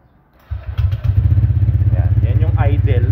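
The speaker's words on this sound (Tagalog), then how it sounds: "Yan yung idle" A motorcycle with a complete stock, street-legal muffler system catches after a brief silence and settles into a loud, close, even idle with a regular thumping beat, while a voice speaks over it.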